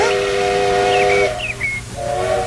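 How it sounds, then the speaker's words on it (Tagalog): A steam train whistle in London blows loud and close, a sustained shrill tone with a brief wavering break partway through, over constant steam hiss. "Ang tren! Pakibilisan po! Nariyan na po ang tren!"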